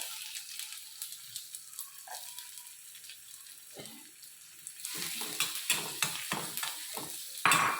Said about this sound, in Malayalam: ബട്ടറിലേക്ക് എടുത്ത് വെച്ചിട്ടുള്ള ഉള്ളിയില്ലേ അത് ഞാൻ ഇടുന്നുണ്ട്.